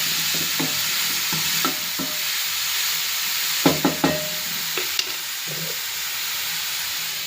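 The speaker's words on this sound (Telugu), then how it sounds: "నెయ్యిలో మంచిగా వేగాలి." Grated bottle gourd frying in ghee for halwa, with a continuous sizzling hiss and a series of sharp spoon scrapes and knocks against the pan, clustered near the middle.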